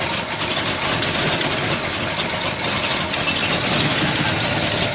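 A 1973 Chevy Nova engine, running for the first time in about 10 years, idles steadily and loudly up close with a rough, continuous churn and no talk over it.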